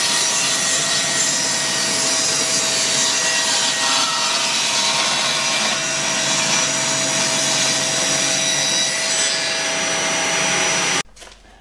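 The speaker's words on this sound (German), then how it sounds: "Frei Handsägen." Hand saw cutting freehand through a wooden workpiece in a home workshop, a steady, dense rasping stroke that continues loud and close for about eleven seconds before stopping abruptly.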